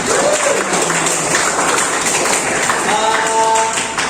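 Classroom students clap at a teacher's request in a school lesson, a dense, steady patter of many hands filling the room throughout, with voices briefly rising over it near the end.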